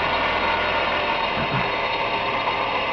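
A steady, even mechanical hum and whir of a running three-phase electric motor, continuous and fairly loud, with a faint rattling texture and no talking.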